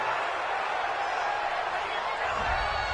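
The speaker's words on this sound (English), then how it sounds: "This home crowd, they're happy with that call." A stadium crowd in a PS4 American football video game roars in a steady, dense wash of cheering that holds loud and unbroken throughout, with commentator talk running underneath.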